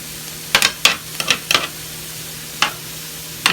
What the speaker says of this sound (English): So I'm just mixing that up a little bit.